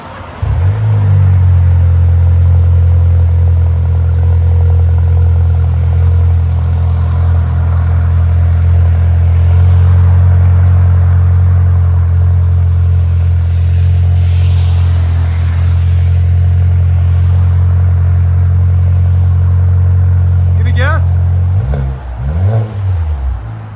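A 2016 VW Jetta SEL TSI 1.8L turbo with high-flow cat and glass pack exhaust: a loud, deep droning exhaust held steady for about twenty seconds, then a couple of quick revs rising and falling near the end.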